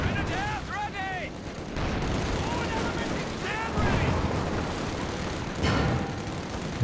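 Machine gun and mixed gunfire rattle through a Company of Heroes 2 4v4 battle, with bursts and booms over a rumbling backdrop, chirpy whistling effects and someone commentating on top.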